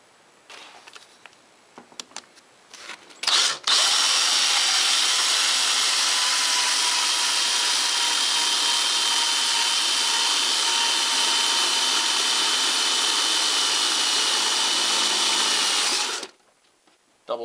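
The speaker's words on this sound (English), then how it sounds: "this needs a 7/16 hole. So I will just use the step drill" A power drill with a step drill bit whines loudly and steadily for about twelve seconds boring a 7/16-inch hole, then winds down and stops, after a few brief clicks and taps.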